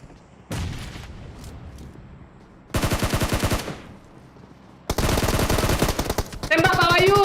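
Automatic weapons fire in PUBG Mobile in three loud, rapid bursts, each dense with sharp reports and trailing echo. The shots are close and heavy, and a brief squeal follows near the end.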